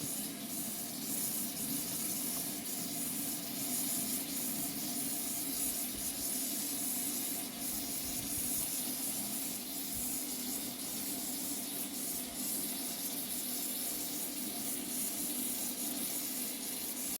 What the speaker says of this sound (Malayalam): ഇഡ്ഡലി ചെമ്പിൽ ഇതൊക്കെ ഒന്ന് ആവിയിൽ ഒരു 20 മിനിറ്റ് ഇട്ടാൽ മതിയോ